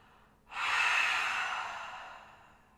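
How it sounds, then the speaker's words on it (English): A long breath pushed out through the mouth during a breathing exercise, a steady airy whoosh that swells quickly and fades slowly over about two seconds, close and fairly loud, with no talking. "And exhale out the mouth."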